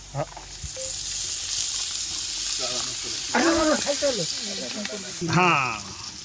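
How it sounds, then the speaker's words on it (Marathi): Onion frying in a pan for a rustic village-style mutton curry, a steady hiss of sizzling oil running throughout beneath bursts of nearby voices talking. "कांदा टाकला आता कांदा भाजून घ्यायचा"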